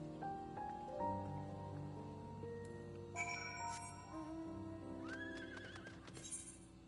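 A horse in Final Fantasy XIV gives a clear whinny over a layered musical game soundtrack, with light hoof clip-clops and jingling mixed in at moderate, steady volume.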